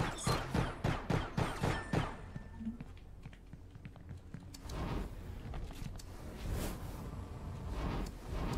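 Rapid bursts of long rifle gunfire in the Star Atlas video game, a quick rhythmic string of sharp cracks at the start, then scattered shots and clatter over a busy game background.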